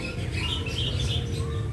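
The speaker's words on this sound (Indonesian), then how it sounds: "Mungkin kawan-kawan juga dengar ini suara-suara daripada burung." Birds chirp and tweet in a large aviary at midday, several high calls overlapping against a busy background hum.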